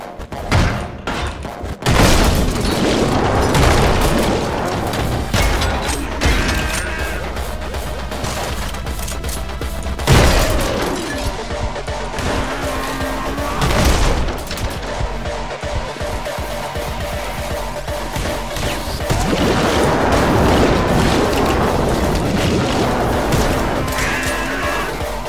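Loud, chaotic bursts of explosive crashing and booming doors in the video game Anger Foot, heavy thuds and smashes repeating over a dense, continuous rumble of game noise.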